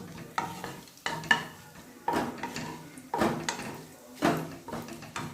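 Cumin seeds and bay leaf tipped into hot oil, crackling and sizzling for a dal-style dish, with several sharp stirring and scraping bursts recurring about once a second over a steady frying hiss, close and moderately loud.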